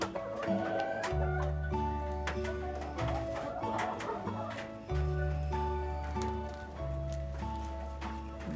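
Brahma chickens and a rooster cluck in a rainy coop, a dense layer of overlapping clucks and calls close by, with a light clip-clop patter running underneath throughout.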